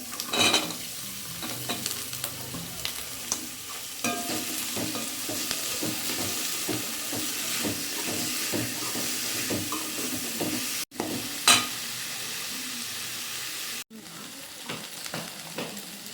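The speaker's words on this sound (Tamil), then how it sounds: "லைட்டாக ஒரு வதக்கு வதக்குவோம்." Okra and potatoes sautéing in a hot pan, a continuous sizzle broken by repeated scraping stirs of a spoon, close and steady, with two brief dropouts near the end.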